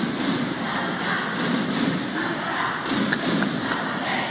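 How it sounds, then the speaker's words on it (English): A crowd of fans cheering at a sepak takraw match, a sustained roar from a large audience with scattered thuds and shouts rising through it, loud and continuous. "And the fans certainly not going down without a cheer."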